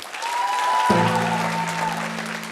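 Audience applause at a Ukrainian improv comedy show, a steady wash of clapping that fills the whole stretch, with a held musical tone and a low sustained chord entering partway through.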